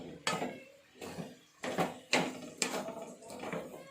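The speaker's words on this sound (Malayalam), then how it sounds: "നല്ലോണം ഇളക്കട്ടെ." A spoon scrapes and knocks inside a pot as a tomato vegetable curry is stirred, making several distinct clattering strokes in an uneven rhythm, fairly close.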